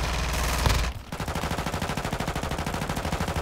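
Automatic gunfire in Call of Duty Warzone 2.0 opens with a loud blast and swells, then settles into a rapid, even stream of close shots that carries on to the end.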